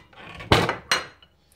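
A plate is picked up and set down in a kitchen while preparing green beans for drying, giving two sharp close clatters followed by a faint tap, with no talking.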